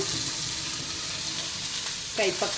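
Chopped bitter gourd fries in a pan with a steady close sizzle, and a brief stirring clatter comes near the end.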